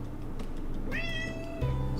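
A pet cat gives a single drawn-out meow, close and fairly clear, over a low steady background hum.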